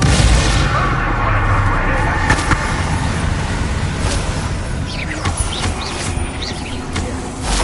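Explosive spell blasts crackle and boom in dense succession through a busy battle in Hogwarts Legacy, a continuous loud wash of bursts with sharp transients and bright zaps layered over each other.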